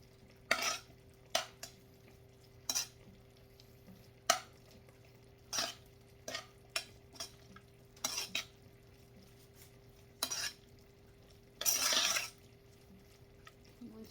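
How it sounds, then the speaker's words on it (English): A spoon drags through beef Lombardi casserole sauce in a pan in short, separate scraping strokes spaced a second or two apart, with a longer scrape near the end over a quiet low hum. "we're going to give this a stir"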